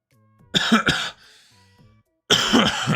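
A man with a nagging cough gives two harsh, close coughs, then a throat clearing, and after a short quiet another loud burst of coughing, all with no one talking.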